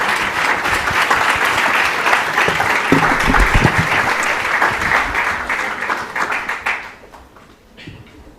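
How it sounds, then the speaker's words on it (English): Audience applause for a student startup pitch team at a university pitch competition, a dense steady wash of many hands clapping for about seven seconds before fading out, with no talk. "let's give a round of applause to that team"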